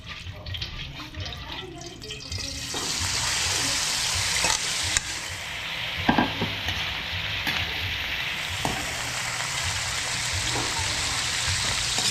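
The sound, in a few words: sautéing garlic, onion and tamarind shoots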